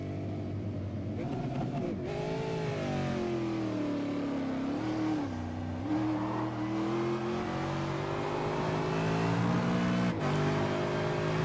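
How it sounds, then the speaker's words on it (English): A race car engine at Road Atlanta revs up as the car leaves the pits, a loud onboard drone with pitch rising and dipping through gear changes, climbing steadily toward the end. "Revs rising, he's getting ready to leave the pits."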